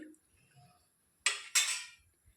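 A ladle stirs sambar in a cooking pot, giving two short, loud scraping strokes in quick succession against an otherwise quiet kitchen with faint background murmur.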